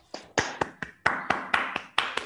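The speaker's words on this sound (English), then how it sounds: "Let's give a round of applause real quick." Applause after a cosmology talk on CMB spectral distortions: about ten distinct, fairly loud hand claps in a quick, slightly uneven rhythm, sounding thin and sparse rather than a full crowd.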